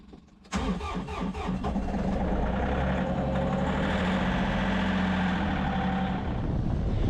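A diesel tractor engine cranks briefly on a snowy morning, then catches and roars to life, settling into a loud, steady rumbling idle close by.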